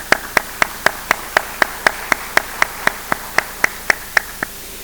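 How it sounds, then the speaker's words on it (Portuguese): Clapping at an academic forum: sharp, evenly spaced single claps, about eighteen in a steady rhythm, crisp and close over a quiet room hum rather than a full crowd's applause. "Uma salva de palmas"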